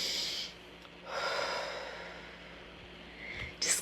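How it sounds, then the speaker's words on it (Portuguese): A slow, deep breath drawn in and let out during a guided relaxation, soft and close with airy rushes of inhalation and exhalation and no talking. "Que tal uma respiração profunda?"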